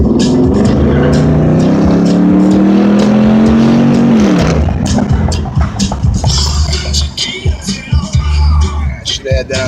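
A 2004 Dodge Ram 1500 Rumble Bee Hemi 4WD truck accelerates hard at half throttle, its V8 note rising steadily, then shifting into a rougher, loud roar with possible tire scrabble toward the end.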